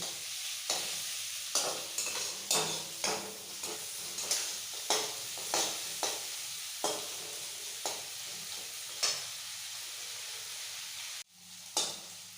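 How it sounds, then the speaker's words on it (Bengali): Onions frying in a pan for a Bengali prawn curry, with a soft sizzle under regular spatula strokes scraping and tapping the pan about once a second, close and fairly quiet, with no talk. "পেঁয়াজটা হালকা ব্রাউন ভেজে নিয়েছি"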